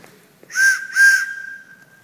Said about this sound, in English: You could hear a train whistle far in the distance.